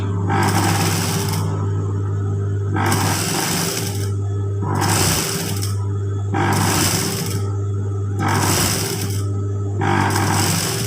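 A sewing machine stitches fabric in a loud, rhythmic series of bursts, each lasting about a second and a half, separated by brief pauses, over a steady low motor hum.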